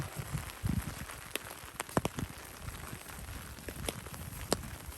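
Rain falls steadily in a forest, a continuous hiss with scattered sharper drops tapping nearby surfaces and a few low thuds.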